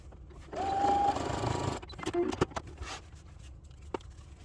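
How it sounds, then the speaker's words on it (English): A sewing machine stitches pleats into a reusable fabric coffee filter cone, running in a steady burst of about a second and a half before quieter handling and scraping noises follow. "fold it the opposite way, and we will sew these pleats"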